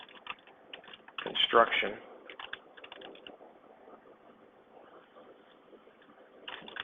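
Someone types on a computer keyboard in quick bursts of clicking keys, close and clear, while a voice speaks over parts of it.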